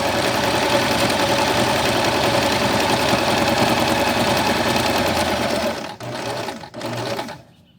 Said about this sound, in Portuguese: a gente vai fazer essa costura na máquina, ponto reto.